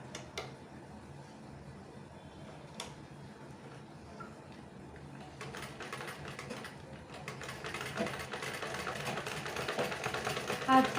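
A sewing machine stitches cloth with a steady mechanical whir and chatter that starts quiet and grows louder and denser over the final seconds, with a few sharp clicks early on.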